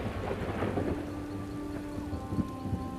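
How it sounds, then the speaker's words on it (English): Steady rain and rolling thunder from a thunderstorm in The Elder Scrolls Online, a dense continuous wash of falling rain with low rumbles running throughout at a constant moderate level, plus faint tonal ambience beneath. "I could do without this damnable rain. It's been storming since we arrived"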